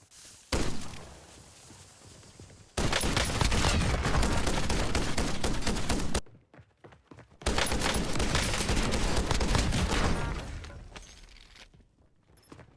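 Full-auto MX Guardian shotgun firing dragon's breath rounds in Warzone: two long, loud, rapid bursts of blasts separated by a short pause, each trailing off, with no voices.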